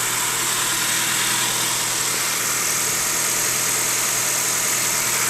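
The engine of a 2013 Honda Accord runs steadily while the A/C compressor kicks on. It makes a loud, constant mechanical hum and whir with no pauses, recorded up close.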